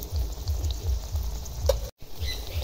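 Papad frying in oil on low heat, a gentle continuous sizzle over a soft rhythmic low rumble, briefly broken by a short gap.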